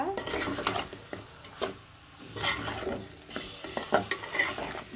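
Chicken being stir-fried with turmeric, chili, coriander powder and garam masala in a pot, with repeated scraping stirs and clanks of the spoon against metal over a steady sizzle, close and moderately loud, no talking.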